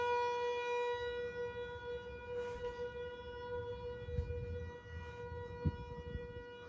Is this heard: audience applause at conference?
no